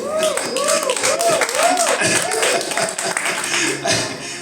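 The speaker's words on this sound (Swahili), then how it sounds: "Pigia Bwana makofi." A church congregation claps their hands in praise for the Lord, with steady clapping running throughout under singing or voices, fairly loud and close.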